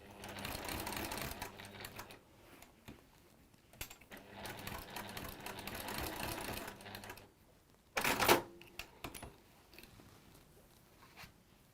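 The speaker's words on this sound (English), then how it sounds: "we sew just quite close to the bottom, not right at the bottom, but not too close at the top, because you want to sort of catch the layers" A sewing machine stitching through layers of fabric in a craft workshop, running in steady whirring bursts separated by short pauses, with a sharp clatter near the end.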